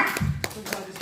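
A small audience at an open mic comedy night in a hospital social club hall claps in a brief scattered burst of a few hand claps, with a voice heard speaking over it.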